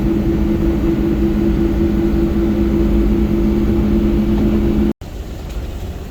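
An old 4500 truck hauling a heavy bed up a long, fairly steep grade, its engine droning steadily and loudly with a constant low hum, then briefly cutting out before resuming slightly quieter.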